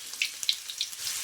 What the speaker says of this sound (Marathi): आता आधी तळू आपण आपल्या मिरच्या.